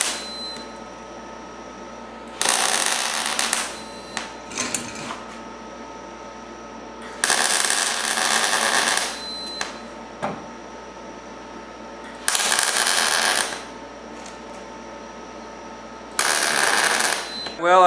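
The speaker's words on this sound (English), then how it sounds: "I've got a few welds on here now" Tack welds being laid on cab corners of a Ford F150 extended cab, heard as four loud bursts of crackling arc welding about a second each, separated by quieter pauses with faint background hum and small handling noises.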